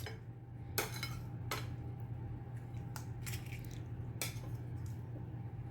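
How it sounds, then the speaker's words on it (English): A pan of baked chicken thighs slid back into a home oven, with a few sharp metallic clatters and scrapes of the pan against the rack over a steady low oven hum. "let's just go ahead and put our chicken in. And we're going to put it back in the oven for another 15 minutes"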